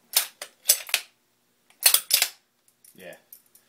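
A powder-actuated nail gun fires nails into concrete, giving four sharp, close cracks in two quick pairs, followed by a fainter rattle and a short burst of talk.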